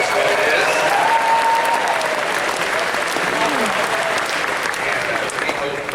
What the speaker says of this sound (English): So a big round of applause to you guys for doing that.